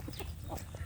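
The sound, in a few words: free-range village chickens (ayam kampung) being fed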